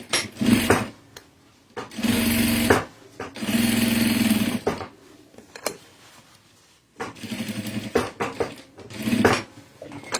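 A sewing machine runs a straight stitch through fabric in several separate bursts of steady motor whirring and needle chatter, close and loud, with short pauses between runs.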